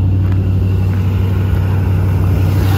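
A 1989 TVR 400 SE engine runs steadily at idle, a strong low throbbing hum that stays constant and close throughout the short stretch, with no voices.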